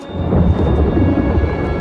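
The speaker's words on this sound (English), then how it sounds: "That is no natural storm." Storm thunder in the video game New World Aeternum, a deep continuous rumble rolling loudly through the whole moment, with rain hiss layered over it and no voices.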